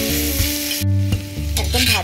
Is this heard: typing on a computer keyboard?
no